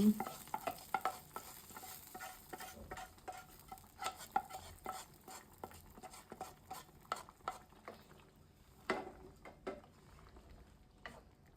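Cumin and garlic frying in a pan, with a soft continuous sizzle under irregular scraping and clicking stir strokes, quiet and close, with no talking.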